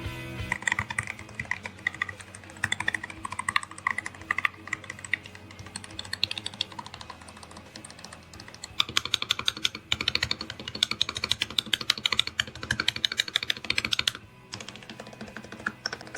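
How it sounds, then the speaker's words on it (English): Rapid, continuous clacking of keys on a low-profile keyboard, fast typing with a brief pause near the end, close and crisp with no voices. "let's listen to the typing sound of this keyboard"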